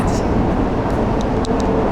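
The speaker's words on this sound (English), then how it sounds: "on the train from Penang Bazaar into Hachai" Commuter train rolling from Penang Bazaar toward Hat Yai, a steady broadband rumble of wheels and carriage noise filling the cabin throughout, with faint higher squeaks and clicks near the end.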